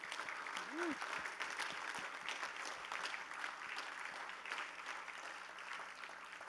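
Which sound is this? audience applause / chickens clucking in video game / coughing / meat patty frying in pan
audience applause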